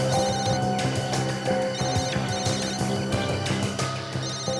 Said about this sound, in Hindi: हाँ, फोन की रिंग जैसी आवाज है।